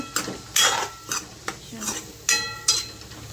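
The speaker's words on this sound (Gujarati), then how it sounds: "ઘેર જો બટાકા નાખ્યા, બટાકા મિક્સ કરી દઉં" Potatoes mixed with spices being stirred in a pan, with several quick, close scrapes and clinks of a spoon against the metal in an uneven rhythm, fairly loud and with no talking.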